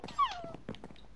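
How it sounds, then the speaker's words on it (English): Tamed dogs in Minecraft give a faint, brief whimper and whine, soft and high, lasting about a second. "set your dogs on him."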